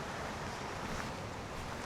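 Running water flows outdoors in Scottish rain among hills, a broad continuous rushing wash with gusty, wind-like texture, steady and unbroken, with no voices.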